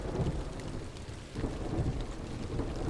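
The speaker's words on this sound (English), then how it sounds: "Impressive the fire's still going with all this thunder and lightning." Thunder and rain on a rainy day in the video game Tribal Hunter, with steady rainfall and low rolling thunder rumbles swelling twice in close succession.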